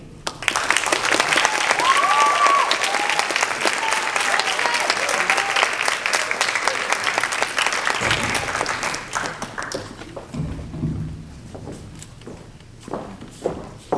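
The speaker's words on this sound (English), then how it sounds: "Can we have another round of applause for all our contestants?" Pageant audience applause for the contestants swells as a broad, sustained clatter of clapping, then thins out and tapers after about eight seconds, leaving scattered claps and light footsteps.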